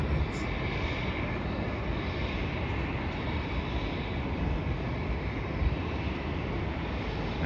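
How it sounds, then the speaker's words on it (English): A Rex Airlines Boeing 737 roars steadily on takeoff with a dense, continuous jet-engine rumble, heard from a distance outdoors with some wind noise. "Rex Airlines is going to be taking off now."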